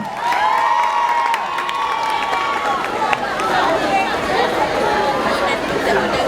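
At an outdoor football league awards ceremony, a crowd cheers and claps amid busy chatter and shouting, a lively, continuous mix of voices and scattered applause.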